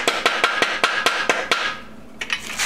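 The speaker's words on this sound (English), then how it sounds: "I'm going to use a block of wood to smack on this a little." About ten sharp knocks of a wooden block on the metal swing arm of a 1973 Honda CB750, in a quick, even rhythm, a brief pause, then a few more hits, close and loud.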